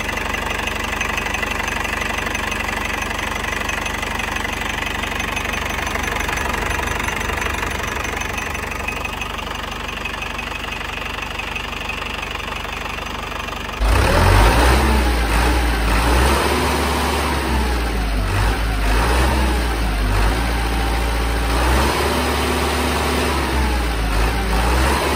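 A telehandler's diesel engine runs after reassembly with a new injection pump, first a steady idle, then a louder, rougher knocking rev that continues to the end, with no talking.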